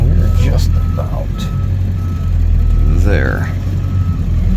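A rollback truck backs up, its backup alarm sounding repeated steady beeps over a loud, low diesel engine rumble, with someone talking throughout.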